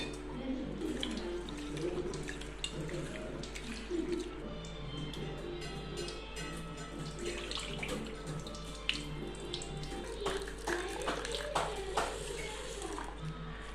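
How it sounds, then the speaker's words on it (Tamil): Rice and urad dal being washed by hand in water for idli batter, with steady sloshing and splashing of water and grains in a bowl, close and continuous throughout, with a faint tap-like flow. "அரிசியும் உளுந்தையும் ஒரு 3-4 டைம் தண்ணியில் நல்லா கழுவி எடுத்துக்கலாம்."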